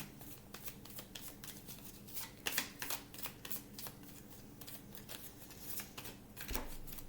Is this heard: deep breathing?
no